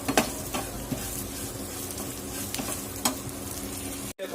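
Steady scraping and sizzling of a spoon stirring spices with asafoetida in a hot pan, with a few sharper clinks, continuous and close.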